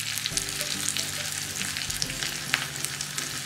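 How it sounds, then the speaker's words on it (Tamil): Curry leaves and asafoetida crackle and sizzle in hot oil, a close, continuous frying hiss dotted with sharp pops. "கொஞ்சமாக, பெருங்காயம் எண்ணெயிலே பொரிச்சுக்கலாம்."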